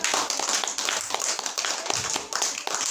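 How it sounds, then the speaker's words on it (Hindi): An audience claps at a live talk, a dense, fairly close patter of many hands that continues steadily for a few seconds. "एक बार ताली बजाइए"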